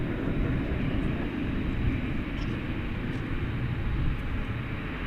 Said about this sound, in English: Here goes the 777 to London, Flight 78. Let's listen for the big roar.